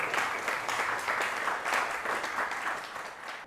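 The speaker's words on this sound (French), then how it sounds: "Est-ce qu'on peut l'applaudir une fois de plus, s'il vous plaît?" An audience at a medal decoration ceremony applauds, continuous dense clapping sustained evenly before tapering off at the end.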